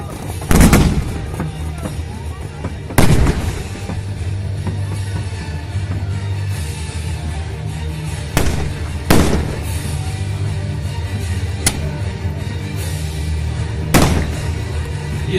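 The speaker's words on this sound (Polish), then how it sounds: "Jeszcze jedna salwa z organów, jeszcze pojedyncze strzały z muszkietów" Loud booming cannon volleys and sharper musket cracks ring out irregularly, spread apart, at a battle reenactment at Zamość Fortress, Poland, over a constant outdoor crowd rumble with distant voices.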